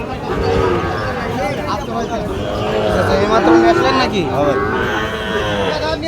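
Cows, including Sahiwal cattle, moo repeatedly in long, drawn-out calls over a steady crowd murmur and nearby talking, with the busy bustle of livestock all around at the Ambari cattle market in Dinajpur.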